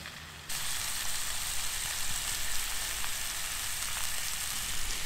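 Pork and bacon sizzling loudly and steadily on a hot grill, a dense continuous crackle and hiss close up, no talk.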